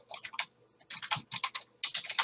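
Fingers type quickly on a computer keyboard in bursts of crisp, close clicks with short pauses between, during a podcast recording, with no speech over it.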